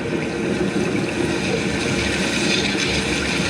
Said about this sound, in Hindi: सागर से विकराल लहरें उठ रही हैं